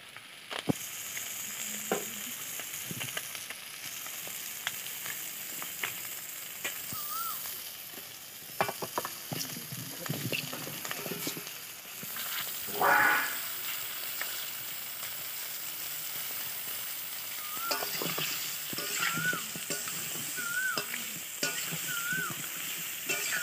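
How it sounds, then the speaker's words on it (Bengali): Spices with salt and turmeric frying and being stirred in hot oil for a homemade mango pickle, a steady close sizzle with stirring scrapes throughout, no voices. "নুন আর হলুদ দিয়ে ভালো করে তেলে ভেজে নিতে হবে।"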